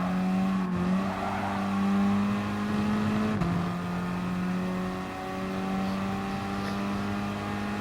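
Peugeot RCZ race car driving in GT Sport, a sustained droning engine note held steady and close, with a brief pitch dip as the revs shift, heard alone.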